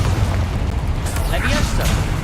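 Confringo spell blasts in a video game set among Inferi roar as continuous booming explosions, loud and close, with a voice shouting spell names over them.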